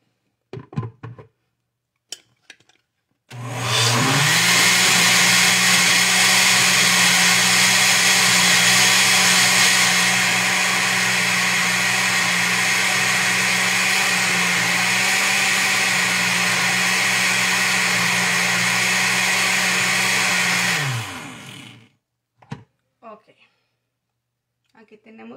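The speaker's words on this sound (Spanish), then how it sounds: "voy a hacer un poco de ruido. Y aquí está todo. Con mi licuadora" An electric blender mixing gelatin dessert ingredients whirs loudly and steadily for several seconds, then cuts off; brief speech is heard before and after the motor runs.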